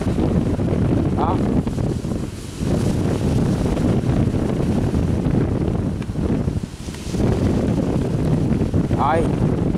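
Steady rumble of an overloaded sea barge or boat running with the waves out at sea, with heavy wind buffeting the microphone and someone speaking briefly over the roar.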